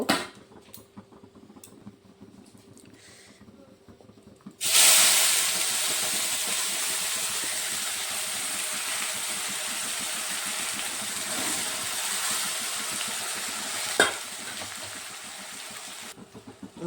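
Spices frying in hot oil for fish-head muri ghonto, a steady loud close sizzle that kicks in suddenly after a quieter start and holds for over ten seconds, with one brief clink partway through and no talking.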